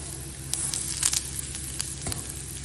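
Chana dal and urad dal tempering in hot oil with asafoetida added, a close, continuous crackling sizzle with a few sharper pops and a brief stirring scrape, no voices.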